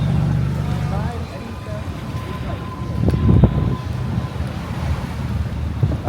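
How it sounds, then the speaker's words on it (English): A boat approaches across the sea in the Maldives, its engine rumbling low and swelling nearer under steady wind and waves, with people talking close by. "There must be a boat coming, mustn't there?"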